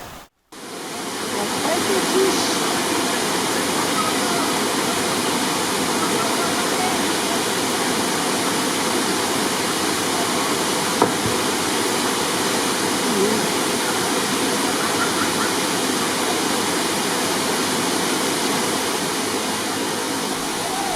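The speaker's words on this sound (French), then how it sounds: "La cascade blanche est impressionnante du haut de ses 6 à 7 mètres." Steady, loud roar of a white waterfall about 6 to 7 metres high in the Jura, a dense unbroken rush of falling water filling the whole stretch without voices.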